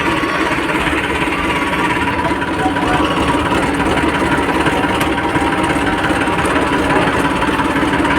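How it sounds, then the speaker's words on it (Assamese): A tractor just started up runs at a steady, loud, rumbling idle close by for the whole stretch, its even chugging vibration never pausing or changing pace. "এইফালে হৈ গ'ল ট্ৰেক্টৰ ষ্টাৰ্ট"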